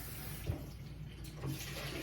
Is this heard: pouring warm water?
yes